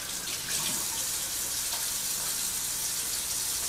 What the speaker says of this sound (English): Let me wash my hands, since they're covered in grease right now.